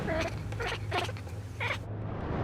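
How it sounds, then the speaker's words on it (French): A cat chatters at prey birds in a rapid run of four or five short, clicking bursts, close and clear against a low steady hum. "c'est vraiment de la part du chat une forme de caquetage, de grincement de dents"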